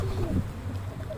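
Soft, low wild pigeon coos murmur faintly against a dull background hum while the birds feed, with a hint of voices nearby.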